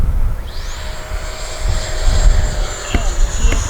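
FMS F-18F 70mm electric ducted-fan RC jet pulling into a vertical climb, a high whining fan tone sweeping upward and holding steady, with background noise and a brief voice near the end.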